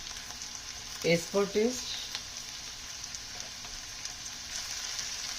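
Half-fried asparagus (shatavari) sabzi sizzles in a pan with a steady, close frying hiss throughout, while a voice briefly speaks near the start.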